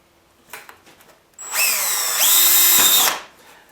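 A brand-new DeWalt cordless drill whirs loudly for about a second and a half, its pitch shifting as it speeds up, then cuts off, with a few faint clicks and handling noises before it starts.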